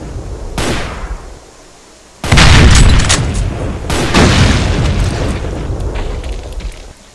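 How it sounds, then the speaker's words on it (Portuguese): Heavy gunfire and booming blasts in the Doom remake, loud dense bursts after a short quieter stretch, sustained and close with a brief dip midway. "Sai dando tiro"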